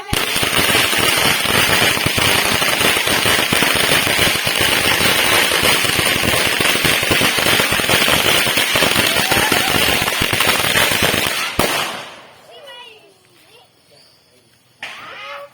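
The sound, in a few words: firecrackers going off during Hari Raya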